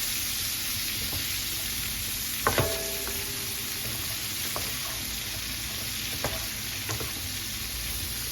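Vegetables sautéing in melting butter in a pan, a soft continuous sizzle with occasional utensil scrapes and light clinks as they are stirred.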